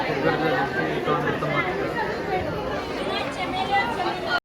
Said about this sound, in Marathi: तर मग एकदम कडक गर्दी झाली इथं